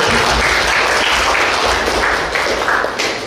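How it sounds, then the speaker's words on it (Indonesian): An audience at an Islamic religious gathering applauds, steady loud clapping from a crowd that lasts the whole time and fades only slightly near the end. "Tepuk tangan dulu, kasih tepuk tangan."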